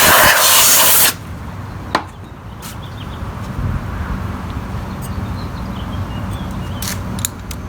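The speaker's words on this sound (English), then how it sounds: "Now's a good time to blow off any debris, dirt, anything around the cover and spark plug." Compressed air blowing debris and dirt off a four-stroke gas trimmer's engine cover and spark plug area, a loud one-second blast of hissing air followed by quieter rustling and a few clicks.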